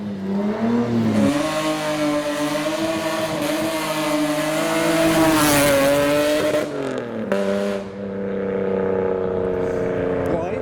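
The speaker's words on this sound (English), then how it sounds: "He's stuck at a red light. He's revving." A custom car's engine revving hard and steadily at a red light, rising and falling in pitch, loud and close, with a brief dip before it roars again.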